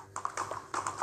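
Horse hooves clip-clop in the Ertugrul Ghazi video game, a quick run of crisp, close taps in an uneven rhythm that pause briefly and then resume.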